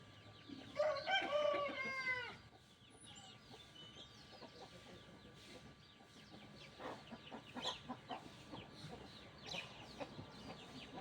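A rooster crows once, loud and near, followed by a stretch of soft, scattered hen clucking and faint farmyard movement from the chicken coop.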